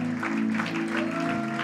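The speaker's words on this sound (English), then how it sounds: "Can we give a big round of applause for these that have come forward?" Brief burst of clapping from a church congregation, a dense patter of many hands heard over sustained keyboard chords that hold steady beneath it.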